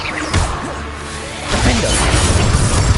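Glacius and Confringo spells cast in Hogwarts Legacy produce a loud whooshing blast with crashing, shattering impact noise, the second burst fuller and rumbling.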